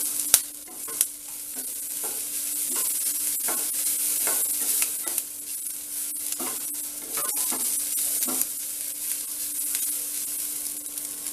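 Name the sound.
grated coconut frying and being stirred in a pan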